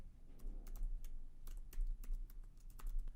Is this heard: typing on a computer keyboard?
yes